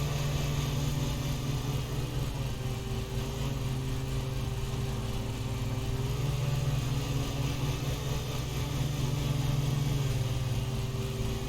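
A mower engine in the video game Lawn Mowing Simulator drones steadily and close with a constant low hum and faint tonal whine, unbroken and without speech.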